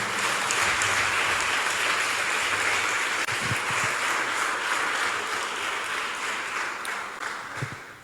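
Applause from a church congregation, a dense sustained wash of clapping at steady loudness for about eight seconds, with no voices over it.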